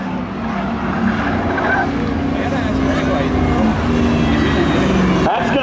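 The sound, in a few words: race car crossing the finish line at Seekonk Speedway drags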